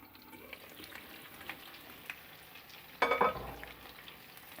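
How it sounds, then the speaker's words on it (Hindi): Chicken fries and steams under a cover on a tawa, giving a faint, steady sizzle, then a louder burst of crackling spatter about three seconds in that fades back to the low hiss. "मैं इसको उतनी देर तक पकाऊंगी कि चिकन हल्का सा फ्राई भी हो जाए और स्टीम में चिकन गल भी जाए।"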